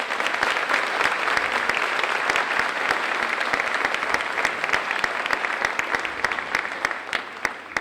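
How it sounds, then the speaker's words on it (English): An audience at a school honor society and awards ceremony claps in a dense, steady burst of applause that fades slightly toward the end. "So give yourselves a round of applause."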